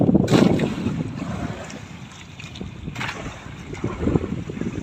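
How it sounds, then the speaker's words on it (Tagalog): Heavy monsoon wind roars and buffets the microphone in strong gusts, with a broad rushing noise that swells and eases over a few seconds. "Galing dyan yung hangin."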